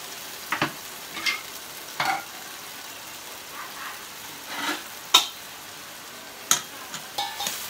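A spiced prawn mixture cooks in a covered pan, a low soft bubbling hiss broken by a handful of sharp spitting pops and light knocks at irregular intervals.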